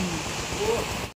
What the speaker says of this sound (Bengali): বৃষ্টির মাত্রা আবার বেড়ে গেল